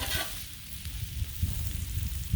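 Cabbage, fingerling potatoes and sausage sizzle on a Blackstone griddle, a low, crackling fry up close with a sharp scrape of a spatula at the start and soft stirring noises, no talking.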